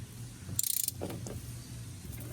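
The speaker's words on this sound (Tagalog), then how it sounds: "grab a 27mm socket and your ratchet, and then just rotate it counterclockwise to remove the cap of the oil filter" Ratchet with a 27mm socket loosening the oil filter cap on a Chevrolet Trailblazer, a brief burst of quick metallic clicks close by, then faint handling noise.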